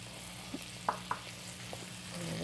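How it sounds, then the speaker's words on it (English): Vegetables sauté in butter and white wine in a pan, giving a soft, steady sizzle with a few light clicks and taps over it, fairly faint and close, with no talking. "Just want to saute these together. Get them going."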